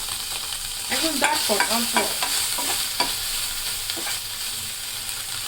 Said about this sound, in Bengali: তেল গরম হয়ে গেছে, চিকেনটা দিয়ে দিলাম।